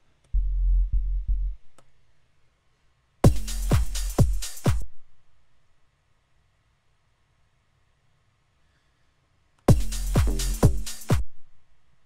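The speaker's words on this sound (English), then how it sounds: "now we just have to make that saw bass hit harder" Punchy synthesizer saw bass played in three separate phrases, each a cluster of heavy, buzzy hits with deep low end, separated by silent gaps.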